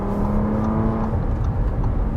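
A Bentley Bentayga Speed's W12 engine revs steadily toward its red line around 6,200 rpm, a loud, continuous, smooth engine drone with a rising tone heard from inside the car.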